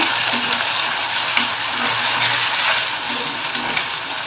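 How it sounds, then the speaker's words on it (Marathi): Finely chopped onion sautés in a pan with bay leaf, making a moderate, continuous sizzle with faint stirring scrapes, and no talk over it. "मी यामध्ये घालणार आहे कांदा, बारीक चिरलेला कांदा. छान परतून घ्यायचं आपल्याला."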